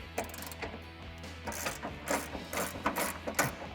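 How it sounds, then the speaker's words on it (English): A ratchet with a 21mm socket works loose the bumper nuts on a 2009-2014 Ford F150, producing a run of quick metallic clicks in short bursts, close and fairly loud. "So grab a 21 socket and a ratchet,"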